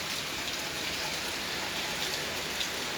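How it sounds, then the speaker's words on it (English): Cold night rain falls around a front porch as a steady, even patter and hiss that stays unbroken throughout. "I'm on my front porch. Yep, and it's cold rain."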